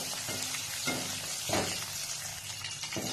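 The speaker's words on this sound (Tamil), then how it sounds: "கருவேப்பிலையும் ஈரப்பதம் இல்லாமல் பொரிச்சு எடுத்துக்கலாம்." Curry leaves frying in hot oil, a close, continuous sizzle broken by a few sharper crackling bursts and faint stirring clinks, with no talking.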